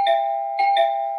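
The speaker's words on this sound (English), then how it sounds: "that's more of an electronic ding-dong sound" A single synthetic two-note door chime sounds, its bright electronic tones ringing steadily with a second tone landing quickly after the first.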